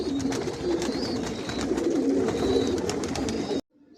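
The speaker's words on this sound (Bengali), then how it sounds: "ভিউয়ার্স দেখতে পাচ্ছেন এখানে একজোড়া পাইট রেসার দেখাচ্ছি" A pair of racer pigeons coo close by in soft, repeated throaty calls over a constant low rustle, then the sound cuts off abruptly near the end.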